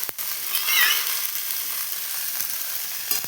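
Soaked chickpeas fry with papaya and potato in a curry, giving a steady close sizzle with occasional scraping stirs.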